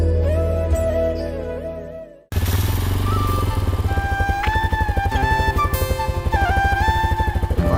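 A motorcycle engine runs nearby with a steady, throbbing idle pulse, briefly cutting out before restarting loud and close, with rhythmic firing through to the end.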